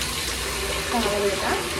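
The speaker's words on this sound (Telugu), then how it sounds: "ఇక వేడి నీళ్ళు అయితే పెట్టేస్తున్నాను అనమాట" Hot water runs steadily into a bath, a continuous close gushing wash with no breaks, while faint voices sound in the background.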